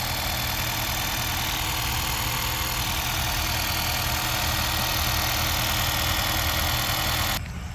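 Honda Vezel hybrid engine idling with the hood open, a steady, even mechanical hum and whir heard up close for several seconds before cutting off abruptly at the end.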